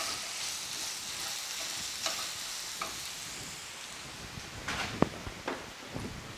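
Spices with a splash of soy sauce sizzling in a hot pan while being stirred: a constant soft frying hiss with occasional scraping and clinking of the spoon against the pan, close by and without talk.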